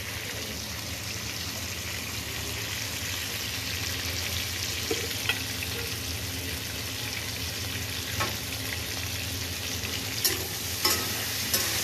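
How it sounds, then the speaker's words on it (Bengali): Pointed gourd and potato fry in a pan with turmeric, giving a steady, close sizzle throughout with occasional scraping stirs and light clinks, and no talk. "পটলগুলো প্রায় ভাজা হয়ে গেছে আর কি"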